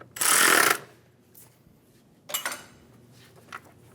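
A bolt being snugged down during alternator replacement on a 2010-2015 Lexus RX350, heard as a short loud burst of ratcheting or power-tool noise followed by a couple of fainter metallic clicks.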